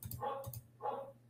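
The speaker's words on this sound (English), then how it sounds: "hear my neighbour's dog" A neighbour's dog barks twice in the background, two short, moderately faint woofs about half a second apart, muffled as if from next door.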